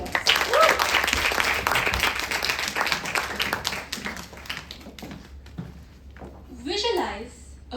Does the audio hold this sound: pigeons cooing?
no